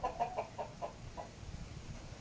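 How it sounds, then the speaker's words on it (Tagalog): Farm chickens give a quick series of clucks up close at first, then the calls fade into quieter low background noise. "So yan po ang mga manok."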